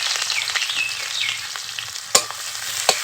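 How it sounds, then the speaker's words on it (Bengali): Chopped onion sizzles and crackles steadily in hot mustard oil with panch phoron, a close, busy frying hiss broken by two sharp clinks of a utensil against the pan near the end. "এর মধ্যে পেঁয়াজ কুচি দিয়ে দেবো"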